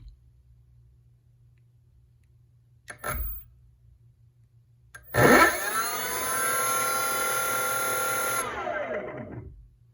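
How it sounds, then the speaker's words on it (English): Two BLDC electric bike motors on a controller test spin up with a sharp start and a high whining hum, running loud and steady for a few seconds before winding down, after a single earlier thump. "I think it's a little bit too loud, but maybe because we have two motors, the noise is increased."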